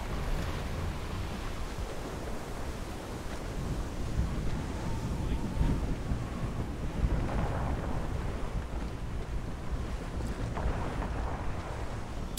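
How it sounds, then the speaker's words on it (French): Big ocean waves breaking against a sailing ship in Assassin's Creed Rogue, a loud continuous roar of surf and wind lasting the whole stretch with no talk. "il y a une grosse vague, il y a une grosse vague."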